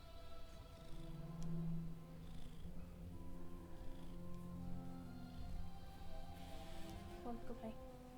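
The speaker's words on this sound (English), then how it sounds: "Look at the kitty." A big black cat purring close by, a soft steady rumble running through the whole stretch, with someone talking over it.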